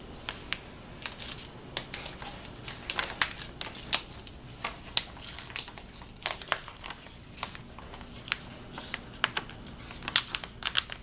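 Paper envelope being torn open by hand, a rapid string of crinkly rips and rustles at close range, quiet and irregular with no talking.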